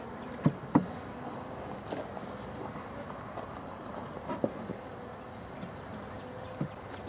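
Bees humming steadily around a newly started beehive, a continuous soft buzz with a few faint knocks and taps over it.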